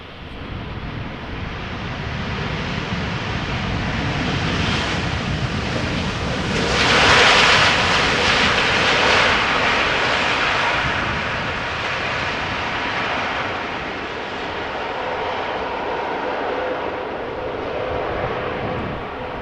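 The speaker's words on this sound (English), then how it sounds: "this is a Dreamliner arrival from Las Vegas from KLM." A KLM Boeing Dreamliner landing at Amsterdam Schiphol Airport gives a broad roaring rumble that holds steady throughout, swelling briefly louder partway through, with wind-like hiss and no voices.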